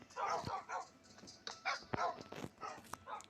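A Minecraft wolf barks and yips repeatedly in short bursts, some whimpering between them, with the slightly synthetic quality of game audio.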